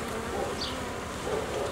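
Honey bees buzz steadily at an organic beehive during hive work, a dense, continuous close hum with occasional higher whines of individual bees passing near.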